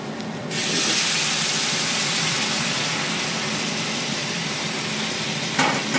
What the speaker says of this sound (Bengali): আমি এই যে গরম জল করে রেখেছি, গরম জলটা দিয়ে দেবো।